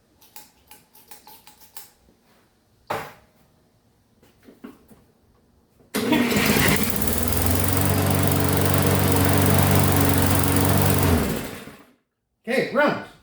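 A small lawn mower engine fed chainsaw gas mixed 50 to 1 catches after a few pulls and runs loudly and steadily for several seconds, then cuts out and restarts briefly.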